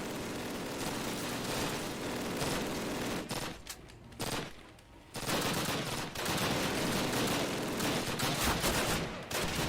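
Dense machine-gun fire in a video game, continuous rapid bursts that break off briefly and then resume, loud and close throughout with no talking.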